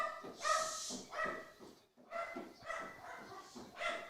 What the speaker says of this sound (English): Got the dogs barking.